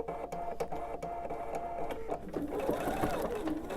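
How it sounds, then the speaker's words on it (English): A sewing machine stitches steadily through layered quilt fabric about an eighth of an inch inside a chalk line, a continuous close mechanical whir with a rapid needle beat that holds an even pace throughout. "I'm going to stitch about 1/8 of an inch inside the chalk line that I drew."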